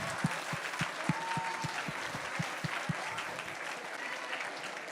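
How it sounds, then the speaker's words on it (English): Applause from a room at a charity fundraiser gala during a paddle raise, steady crowd clapping with rhythmic low thumps underneath that stop partway through. "Round of applause for you."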